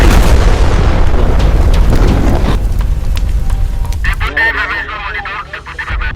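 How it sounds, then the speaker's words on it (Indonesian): Simulated bomb blast during a security and fire drill at a cement grinding plant in Batam: a loud, heavy boom with rumbling roar that gradually thins, followed by crackling debris-like noise and faint voices. "situasi darurat 112 melaporkan baru saja terjadi ledakan di duga bom di area PT"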